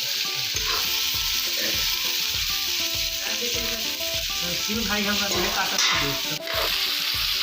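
Diced potatoes frying in a pan for a village-style aloo soyabean curry, a steady close sizzle with repeated scraping stirs of a spoon throughout, no talking.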